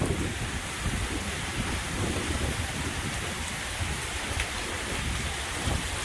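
Heavy rain from a storm that blew in fast, a dense, steady roar of downpour on surfaces, close and unbroken, with no clear thunder clap standing out and no voices.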